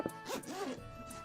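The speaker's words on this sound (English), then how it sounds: "when you unzip it" Quick zipper pull opening a Super Nintendo Classics carrying case, a short close rasping zip lasting about a second.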